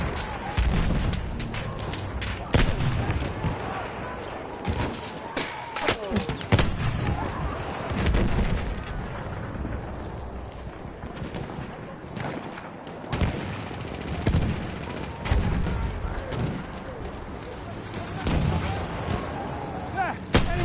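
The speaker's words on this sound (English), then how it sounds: "There's an enemy machine gun!" Video game battle with rapid machine gun bursts and heavy gunfire cracking repeatedly, loud and near, mixed with distant booms throughout.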